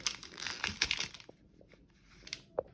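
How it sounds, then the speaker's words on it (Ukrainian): A plastic package holding an ATB bank card from Monobank is torn open, giving about a second of close, busy crinkling and crumpling, then a few quieter rustles and small clicks. "Відкриваємо пакет."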